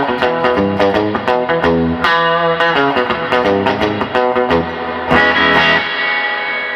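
An amplified electric guitar through a Magnatone amp plays a quick run of picked notes, each ringing into a spacious reverb tail, bright and upfront.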